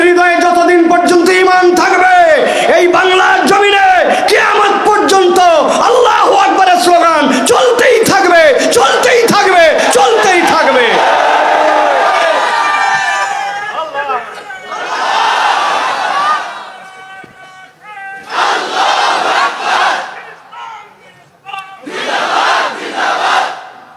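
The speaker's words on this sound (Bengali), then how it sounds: "আল্লাহ আকবরের স্লোগান ইমানদারের স্লোগান" Large crowd chanting the Allahu Akbar slogan at a religious gathering in Jirani, Savar, Dhaka: loud massed voices roaring continuously, then breaking into three separate shouted bursts with short pauses between.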